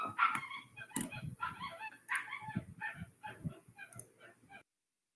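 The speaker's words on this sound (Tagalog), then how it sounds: "napakaingay ng aso, ng tuta" A noisy puppy barks and yips in repeated bursts at close range, filling several seconds in a room during a class lecture, then stops abruptly.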